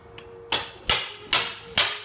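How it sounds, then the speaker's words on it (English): Four sharp metallic blows of a hammer striking a chisel to break apart wooden pallet boards, evenly spaced, close and loud, each ringing briefly. "Just take your chisel and hammer."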